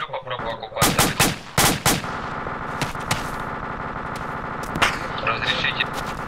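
Machine gun bursts crack through a firefight in the military shooter ArmA 2 with the ACE mod, loud and repeated over a steady battle din, with several sharp volleys near the start and scattered shots later.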